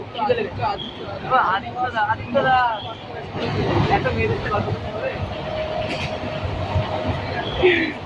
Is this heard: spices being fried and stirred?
no